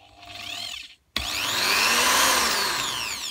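Mac Allister 600W hammer rotary drill whirring steadily at its slowest setting, with a brief stop after about a second before the motor spins up again and holds a loud, even whine.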